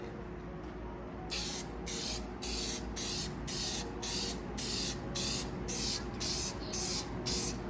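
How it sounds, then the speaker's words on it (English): A Honda K series valve cover gets a first coat of spray primer. Rhythmic bursts of aerosol hiss, about a dozen short sprays in steady succession, sit over a quiet room background. "First coat of primer, let this dry, and we'll apply a few more coats of it."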